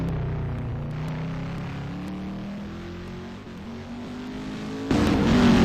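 A race car at Sugo circuit idles slowly through the pit lane, its engine giving a steady low drone that grows louder near the end, with no voices over it.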